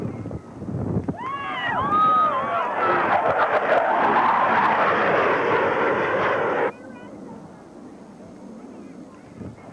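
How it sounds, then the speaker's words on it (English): Blue Angels jets fly a double tuck-over roll at an air show, a loud, sustained roar that swells for several seconds and then cuts back sharply. "They will roll their aircraft 270 degrees in section. Ladies and gentlemen, from the right, the double tuck-over roll."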